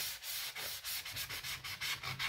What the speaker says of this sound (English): I'm just sanding down some of the black paint.